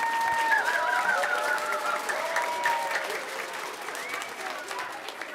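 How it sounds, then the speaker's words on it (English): Audience at an elementary school choir concert applauds for the Music Boosters, a dense wash of clapping with scattered crowd voices, slowly tapering over several seconds. "So please give the Music Boosters a big round of applause"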